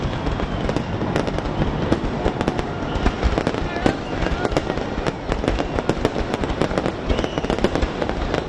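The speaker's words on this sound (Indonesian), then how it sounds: "Malaysia juga menyambut tahun 2026 dengan kembang api spektakuler" Spectacular Malaysian fireworks welcome New Year 2026 with a loud, dense, unbroken crackle of bursts and pops, plus occasional sharper bangs, heard close.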